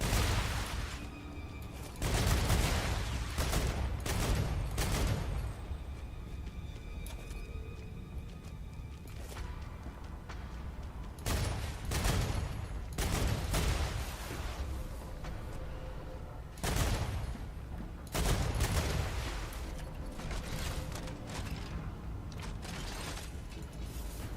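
Bursts of gunfire in the sci-fi survival game StarRupture: several loud clusters of rapid shots, separated by short gaps, striking the player from behind amid mechanical clatter.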